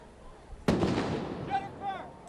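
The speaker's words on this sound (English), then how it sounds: "That is the sound of a flashbang grenade." Flashbang grenade going off at a street protest: one sudden sharp blast followed by a rumbling, fading tail, with distant voices calling out afterward.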